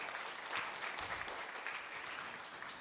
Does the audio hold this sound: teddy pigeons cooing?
no